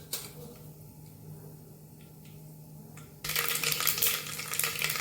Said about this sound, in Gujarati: જો આપણી રાઈ ફૂટવા માંડી છે તેલમાં સરસ મજાની